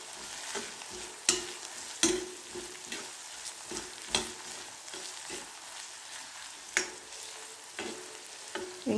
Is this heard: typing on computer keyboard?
no